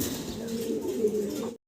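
Fancy pigeon held in a keeper's hand gives a low, steady coo, close and moderately loud, lasting over a second before cutting off.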